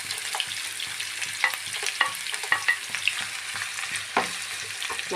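Crushed ginger, garlic and shallots fry in a pan with a steady crackling sizzle, broken by several scraping stirs and light clinks of a spoon, with no talking.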